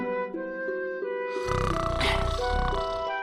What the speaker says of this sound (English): The ogre was snoring